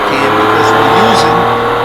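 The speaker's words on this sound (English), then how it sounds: "listen to how different the engine sounds on the SJ cam because we're using a remote mic." Car engine picked up through a remote microphone on an SJ action camera, a steady broad running drone with a slight rise in pitch partway through, close and loud, with talk over it.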